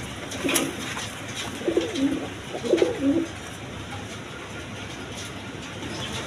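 A pair of Giribaj pigeons coo in three soft, separate bursts over a few seconds, close by against a quiet, faintly noisy background.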